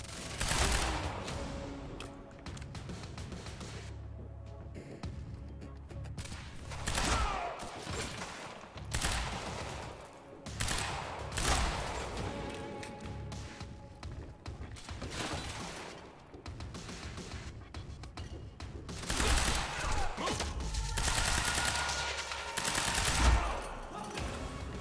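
Rapid gunfire from a firefight in the video game Quantum Break, sustained bursts of automatic shots and impacts layered over game effects, continuous and fairly loud throughout.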